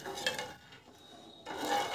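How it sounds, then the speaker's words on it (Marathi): A spoon stirring sugar syrup in a pan for angoor basundi over low heat, soft scraping and clinking against the metal, quiet and continuous. "हे आता पूर्ण विरघळत आले, हे असं फिरवत राहायचं"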